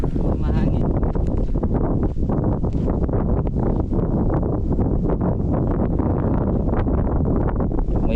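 Steady wind roaring and buffeting against the microphone, continuous and loud throughout, with a rustling, rumbling wash.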